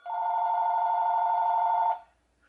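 A telephone bell rings in one continuous, steady electronic trill for about two seconds, close and clear, then cuts off into near silence.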